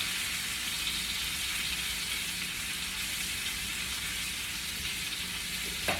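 A steak frying in a hot pan gives a steady, close hiss and crackle that holds evenly throughout, with no talk over it.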